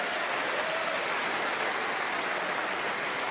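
Applause from a snooker crowd at the Masters: dense, sustained clapping fills the hall at steady volume for a few seconds, with no voices over it.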